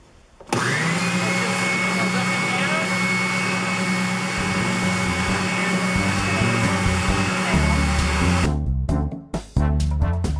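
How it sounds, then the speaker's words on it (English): A spindle sander runs steadily as it shapes a piece of wood into a claw-like curve, a loud continuous motor whine with grinding, before it cuts out and a few knocks and clunks follow. "It's the spindle sander."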